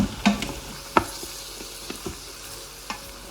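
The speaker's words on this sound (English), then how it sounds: "the mushrooms have been cooking for just about 5 minutes" Mushrooms sautéing in an Instant Pot for risotto, a soft close sizzle broken by a few sharp stirring clinks and scrapes, no talk.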